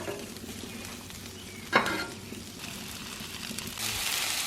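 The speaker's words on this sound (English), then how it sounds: "I'm going to just put the onion right on top of it. We're going to put the apple right on top of it." Onion and apple sizzle and fry in butter and olive oil on a Blackstone griddle, a soft continuous crackle with a brief sharp scrape or stir partway through, quiet and close.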